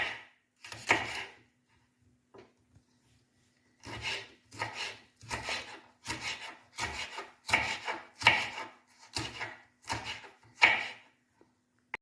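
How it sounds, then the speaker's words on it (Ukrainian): Bell pepper sliced with a knife on a cutting board, a series of crisp, separate chopping strokes that begin sparse and then come in a steady rhythm, close and fairly loud, with no talk. "Нарізаємо перчик."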